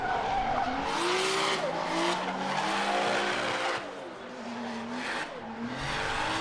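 Drift cars on a sight lap at Irwindale Speedway, with loud tire squeal and skidding over strained, revving engines that rise and fall as the cars slide through the corners.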